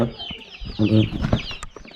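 A hen clucks close by in a home setting, a few short throaty calls rising around the middle, with soft background noise and faint chirps from chicks.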